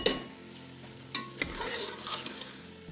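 Tendiyan gosht meat frying in a pan for an Afghani dish, with a steady close sizzle and a few sharp scrapes and knocks of a stirring utensil against the pan.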